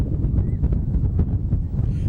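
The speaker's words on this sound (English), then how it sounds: "Right as they get in deep, huge gust of wind pushes them back." A strong gust of wind roars across an outdoor youth soccer field at a Dallas Cup match, buffeting the microphone with loud, rumbling turbulence that swells and falls throughout.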